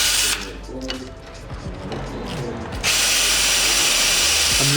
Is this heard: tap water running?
no